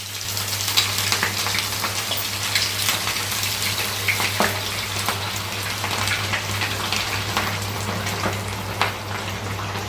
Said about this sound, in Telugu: ఇప్పుడు మనం కొంచెం కొంచెంగా ఆయిల్లో వేసుకున్నామండి.